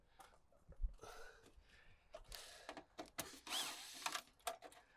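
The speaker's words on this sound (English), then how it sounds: "another thing I always carry in my tool bag is a 1/4-inch bit to take off downspouts" A power drill fitted with a quarter-inch nut driver backs screws out of an exterior gutter downspout in short, faint whirring bursts separated by brief pauses and light clicks of metal.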